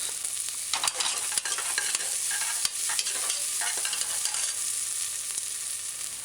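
Pimento berries and garlic are stirred in a hot pot, giving a steady close sizzle with scraping stir strokes throughout, and no voices.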